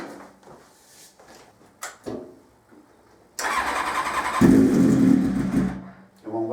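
Engine of a custom fighter motorcycle build cranks briefly, then catches and roars to life loudly and close, settling into a rough idle after some workshop clicks and clunks.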